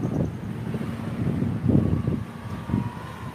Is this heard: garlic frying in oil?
no